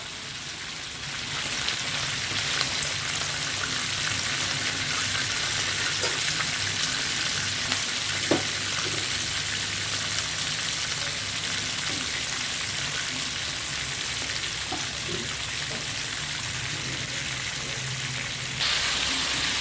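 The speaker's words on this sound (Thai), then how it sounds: "ทอดให้กรอบ" Big chunks of catfish deep-frying in oil until crisp, a loud dense crackling sizzle that runs continuously and close up, with occasional faint pops and no voices.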